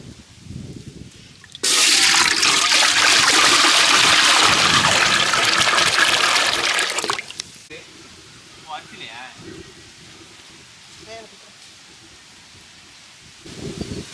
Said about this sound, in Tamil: அதுக்கு வந்து தண்ணி ஊற்றிக்கலாம்.